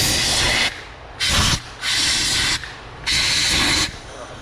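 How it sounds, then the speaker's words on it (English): Brake cleaner sprays in strong, loud hissing bursts into the intake runners of a high-mileage 300k-mile Ford Escape 3.0 V6, four sustained blasts of roughly half a second to a second each, separated by short pauses, close up with no talking. "Like a brake clean pressure washer. Now I can blow these runners out."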